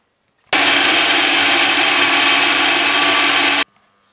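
Blender whirring melon into a purée, a loud steady motor roar starting abruptly and cutting off after about three seconds, alone with quiet before and after.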